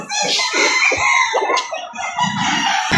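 Roosters crow loudly over a steady background of hens clucking at a chicken market in Lipa City, Batangas, several birds close by and overlapping throughout.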